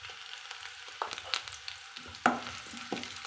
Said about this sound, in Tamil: கொஞ்சம் வெங்காயம் வதங்கினதி பச்சை மிளகாய் போட்டுக்கிறேங்க